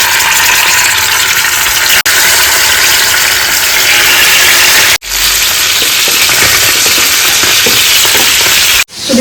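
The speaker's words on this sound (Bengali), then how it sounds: "তো মাছ ভাজা চলছে" Koikla sea fish frying in a pan, a loud continuous close sizzle with crackling that runs throughout, broken by a couple of abrupt cuts, with no talking.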